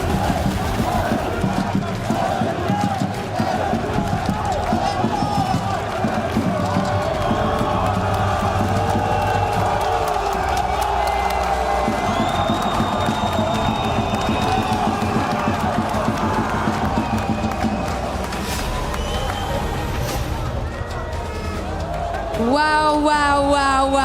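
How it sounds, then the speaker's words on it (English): A big crowd in an esports arena at a Call of Duty Black Ops 7 event roars and cheers in sustained loud waves, with whoops and yells building over about twenty-four seconds, commentary voices faintly mixed in. "What a noise, what a crowd"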